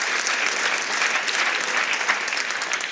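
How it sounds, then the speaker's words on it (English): Steady, dense applause from an audience at a college athletics hall of fame induction ceremony, honoring a coach; continuous clapping throughout with no talk over it. "definitely clap it up for Coach"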